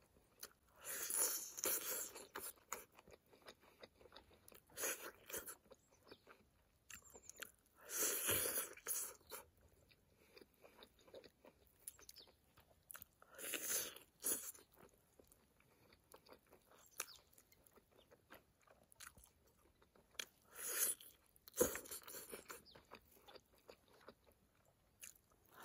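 Close-up, quiet eating of spicy pork ribs torn by hand, with repeated bursts of crunchy biting and wet chewing separated by brief near-silent pauses, no talking.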